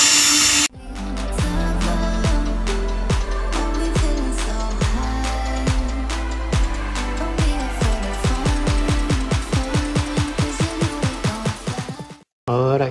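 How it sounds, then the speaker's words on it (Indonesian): An ordinary electric drill bores a hole in a car's bodywork, a loud, close motor whine with rapid rhythmic pulses that speed up toward the end before it stops abruptly. "Jadi dia terpaksa pakai drill yang biasa."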